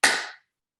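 An audience at a motivational speaking contest claps once in unison, a single sharp, crisp burst that decays quickly into silence.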